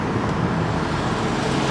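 Road traffic with big trucks rushes past in a steady, loud roadway roar that continues without a break, heard from close beside the road.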